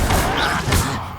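Confringo fire spell blast in Hogwarts Legacy, a loud whooshing burst followed by a second crashing impact, mixed with voices talking.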